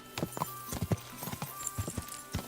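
Horse hooves clip-clop in the video game Kingdom Come Deliverance 2, a quick, uneven run of hoof strikes close by with a faint snort or whinny mixed in.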